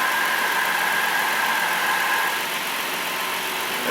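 A Hyundai Sonata engine with an A/C compressor clutch fault runs steadily under the hood with a loud whir. Partway through, the tone drops slightly and eases as the compressor clutch is switched off. No one talks.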